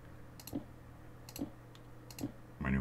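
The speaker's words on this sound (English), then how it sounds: "My new mouse is really clicky." Three sharp clicks from a new, notably clicky computer mouse, spaced about a second apart, fairly faint and close, with low room hum beneath and a louder thump at the end.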